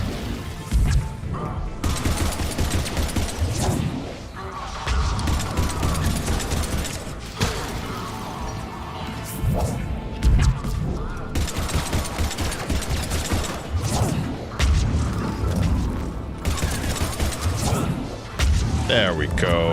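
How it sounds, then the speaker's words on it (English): Gunfire in the Mass Effect Legendary Edition video game, loud, dense clattering shots and impacts filling the whole stretch with brief pauses, mixed with game effects and a voice talking over it. "Hey, stop shooting at me, guys."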